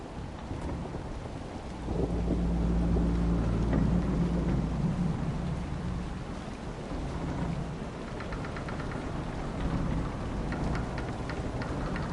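A video game thunderstorm with steady heavy rain hissing throughout and a deep rolling thunder rumble swelling early on, loud and continuous with no voices.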